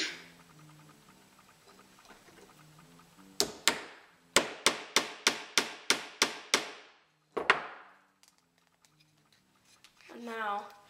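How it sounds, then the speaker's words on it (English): A hammer drives a nail into scrap wood pieces for a small mousetrap, a quick run of about eight sharp, close knocks followed by a few more isolated strikes, with brief talk before and after. "you can hammer"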